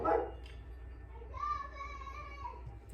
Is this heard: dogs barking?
yes